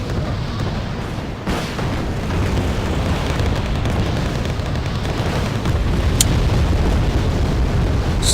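Relentless artillery bombardment in the strategy game Wargame Red Dragon, a dense, loud roar of overlapping explosions and booming impacts rolling on continuously with no pauses.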